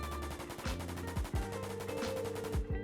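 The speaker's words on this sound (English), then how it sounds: "Now obviously we've got the M4A1, and this is just the default weapon in Jailbird." An M4A1 rifle in the Roblox game Jailbird firing in rapid automatic bursts, a loud, tight rattle of evenly spaced shots running almost continuously, close up with no talk.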